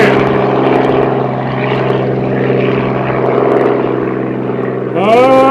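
A propeller aircraft flies straight out over the runway into an easterly wind, its engine drone loud and steady with a droning, slightly wavering tone, and a sharper rising engine sweep at the very end.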